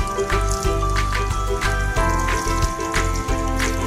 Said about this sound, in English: Now rinse your hands thoroughly with water.